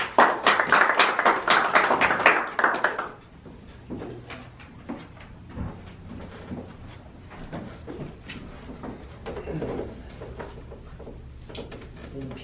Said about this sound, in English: let us give a big warm round of applause